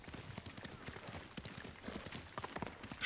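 Horse hooves clip-clopping at a steady galloping rhythm in the video game Ghost of Tsushima, quiet and continuous, with a voice talking over them.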